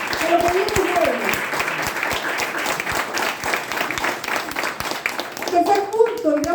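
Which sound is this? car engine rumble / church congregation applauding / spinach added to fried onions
church congregation applauding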